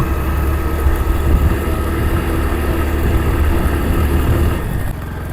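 A motorcycle engine runs loudly and steadily close by with a droning, slightly rough tone, then drops a little in level near the end.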